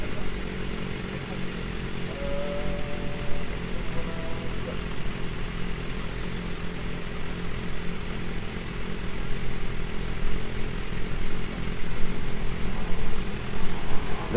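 A Nissan GTR races down an eighth-mile drag strip at an airfield, its engine a continuous loud roar heard from a distance, with a faint voice in the background.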